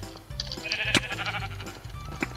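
Sheep bleats from a Minecraft sheep-catching mini-game, several short wavering calls over busy game sounds and background noise, with no talking.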